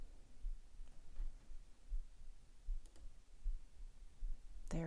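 A single crisp computer mouse click, made to download a picture, lands at the very end after several seconds of low room hum and near silence.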